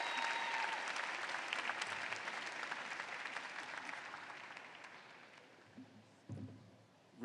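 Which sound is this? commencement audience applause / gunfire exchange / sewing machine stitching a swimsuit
commencement audience applause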